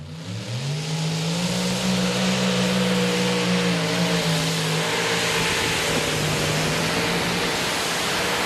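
A hard-revving engine roars loud and steady on a pulling tractor in the Light Modifieds class, running two Hemi engines at a Euro Cup tractor pulling event in Brande, Denmark, with the pitch slowly shifting as it strains.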